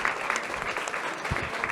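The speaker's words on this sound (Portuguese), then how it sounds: "Uma salva de palmas novamente para a Gira Mais" Audience applause at a fintech pitch competition, a moderate, even patter of clapping hands from a seated crowd, with a few low thumps and faint murmuring underneath.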